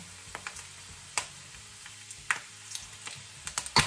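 Pork rinds (chicharon) frying in hot oil, a soft steady sizzle punctuated by scattered sharp pops and crackles, fairly quiet and with no voices.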